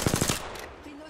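Apex Legends gunfire rattles off as a quick burst of about five close, loud rapid shots, then dies away into a fading tail.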